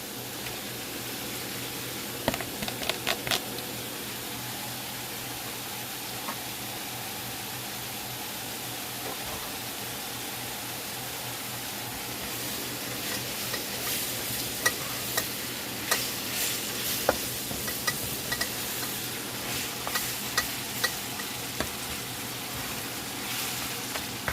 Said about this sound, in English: I'm going to add some vegetables. Green peppers and onions